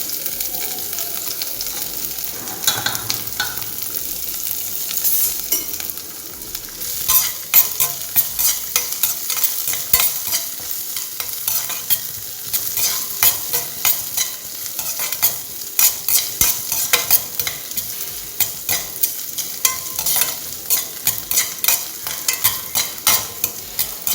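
Ginger and green chili sautéing in a pan, a steady sizzle running throughout with repeated scraping stirs and clinks of the spoon growing busier in the second half, close and fairly loud, no voices.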